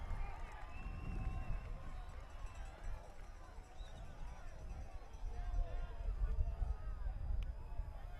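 Rugby crowd at Ellerslie during a Pacific Nations Cup match between Canada and the USA, a broad continuous roar of cheering and crowd babble that swells toward the end, heard from the stands at a distance.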